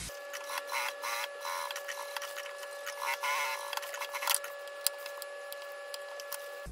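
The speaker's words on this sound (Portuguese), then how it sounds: "E vou costurar aqui prendendo esse retângulo no lugar." A sewing machine stitching a fabric rectangle in place on a school backpack, with faint rapid ticking and clattering bursts over a steady hum and no voices.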